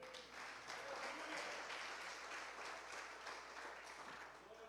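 A church congregation applauds during a sermon, a soft, sustained wash of many hands clapping at a distance, steady for several seconds with a faint voice underneath.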